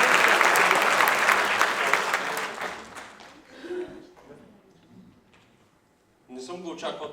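An audience applauds an award winner at a Bulgarian creator-of-the-year ceremony; loud, dense clapping fills the first few seconds, then thins and fades to scattered claps before a brief swell returns near the end.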